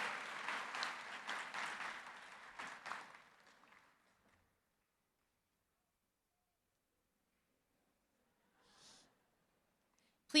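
Audience applause for graduates at a university's 172nd commencement ceremony for the class of 2023. It is sustained and fairly close for about four seconds, then fades to near silence, with a short faint burst later on.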